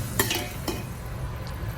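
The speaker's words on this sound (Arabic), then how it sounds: "أول حاجة في الزيت أحط جزرة مبشورة زي ما انتوا شايفين كده، أحمرها لحد ما تدبل" Grated carrot frying in oil, a soft steady sizzle with a couple of sharp utensil scrapes and clicks as it is stirred in the pan.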